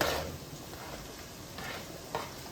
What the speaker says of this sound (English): The last little bit of sausages are right here. I'll go ahead and add these to the pan.